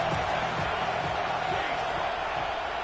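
Football stadium crowd at an Oklahoma vs Oregon college game roaring steadily throughout, a dense continuous wash of cheering and noise from a large crowd.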